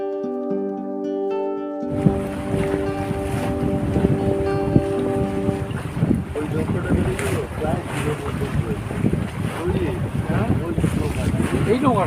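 Wind blows steadily across the open Matla river in the Sundarbans near a mangrove forest, a loud continuous rush with buffeting microphone gusts, likely aboard a boat, following a brief stretch of tonal sound at the start.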